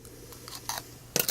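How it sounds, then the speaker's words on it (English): Scissors snip a strip of material in a few quick, dry, close cuts. The last snip is the sharpest and loudest. "Just get it there, a quick snip."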